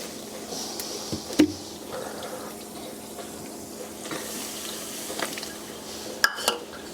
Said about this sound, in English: 1/4 a cup of milk, 1 cup of club soda. I'm going to pour over here to the side so I don't pour too much into our mixture there.